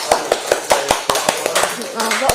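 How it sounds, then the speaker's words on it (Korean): A small group of people at a careers talk claps in a loose, sharp rhythm of distinct close claps, roughly a dozen beats, with voices and chatter mixed in under them. "박수."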